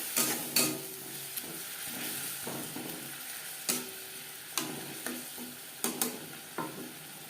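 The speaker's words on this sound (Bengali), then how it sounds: "আর দিয়ে দেব সামান্য পরিমাণে জল, মশলা কষাবার" Spices, salt, turmeric and onion being stir-fried in a pan with a little water, a quiet, soft sizzle broken by repeated close scrapes and taps of a spatula against the pan.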